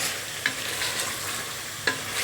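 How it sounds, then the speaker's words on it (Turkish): Garlic is stirred into a pot of chicken and orzo soup, a steady sizzle with two brief scraping knocks of the spoon, close and even, no talking. "sarımsağı da ekleyip karıştırmaya devam ediyoruz"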